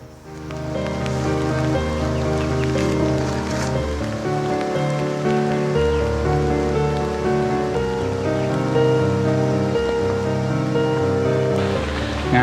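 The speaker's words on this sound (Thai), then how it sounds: "ฝนเริ่มหนักขึ้นเรื่อย ๆ" Heavy rain pours down steadily on a forest hiking trail at Pha Ngaem in Thailand, a dense, continuous patter drumming on surfaces with no voices.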